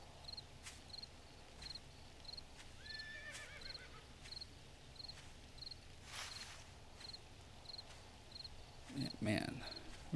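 A horse in the video game 7 Days to Die gives a descending whinny near the start, with a louder snort or neigh burst near the end, over steady cricket and insect chirping and faint hoof clopping.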